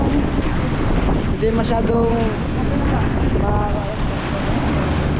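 Waves slosh around a boat at sea under gusty wind during bad weather, a steady rushing wash with someone talking over it.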